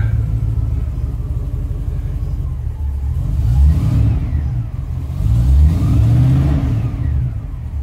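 Engine of a 1972 Range Rover idling with a low rumbling beat, then revved twice, each rise swelling louder and higher before settling back, heard close up.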